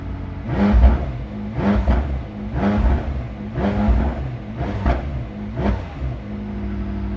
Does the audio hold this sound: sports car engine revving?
yes